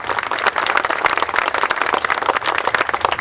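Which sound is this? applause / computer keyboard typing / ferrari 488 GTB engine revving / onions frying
applause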